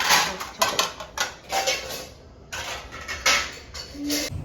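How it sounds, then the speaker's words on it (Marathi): Dishes clatter and clink in bursts near at hand, with rinsing water and scraping between the knocks of pots and plates. "आता मी घेते भांडी घासायला"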